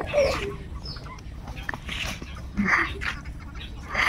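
Chinese ducks being chased and caught around a home yard give scattered squawks and clucking calls in short bursts, close and moderately loud over a rustling background.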